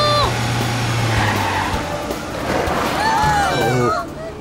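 A cartoon car skids with squealing tires, a short screech followed by a second longer squeal near the end over engine hum, with voices talking in between.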